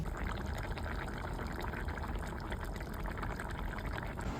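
Thin meat curry broth being poured or ladled out for serving, a continuous soft liquid splashing and trickling sound, close and fairly quiet, with no talking.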